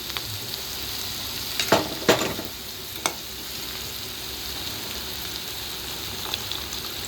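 Cabbage fries in a salted pan with a steady, close hiss and crackle, marked by a couple of brief stirring knocks in the middle, with no talk.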